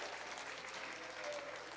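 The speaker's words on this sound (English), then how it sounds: "Give these guys a big round of applause for fixing a problem" Audience applause at a live stream gathering, a faint, steady wash of clapping from a distance that holds evenly for a couple of seconds.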